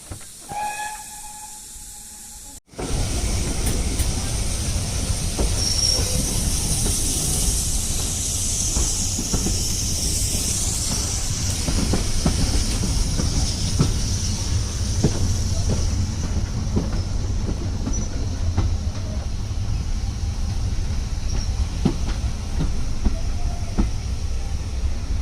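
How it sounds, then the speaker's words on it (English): A North Norfolk Railway heritage train on the Poppy Line runs steadily after a brief quiet start, with a continuous loud rumble and hiss of steam and wheels throughout. "Back at the train."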